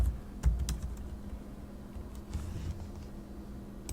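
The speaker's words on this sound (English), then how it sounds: "to run Wireshark, we just type Wireshark here in the terminal" Keystrokes on a computer keyboard as a command is typed in a Linux terminal, a few soft, irregular clicks close by over quiet low room hum, no talking.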